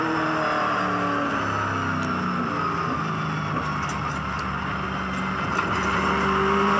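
Several V8 Supercars race cars at the 2007 Gold Coast round roar past in a dense, sustained engine drone, loud and continuous with layered high-revving tones overlapping throughout.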